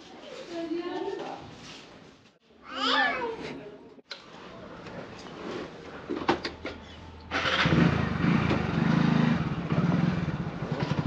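A cat meows in a few rising and falling cries amid a morning motorcycle ride, mixed with people talking and the rumble of an engine that grows louder toward the end.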